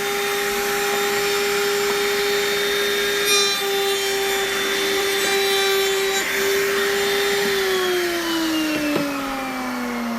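A router on a router table rounds over a wood edge on a second pass, a loud steady motor whine with a high cutting rasp that holds level, then drops slightly in pitch near the end.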